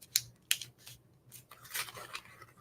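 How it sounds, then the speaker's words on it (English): Die-cut paper images from a Studio Light Christmas card-making pad are popped out by hand, giving a few sharp, close papery snaps and clicks followed by soft rustling and scraping, quiet and without talk. "I'm just popping out all the images on the main page because that's what is used on the card sample"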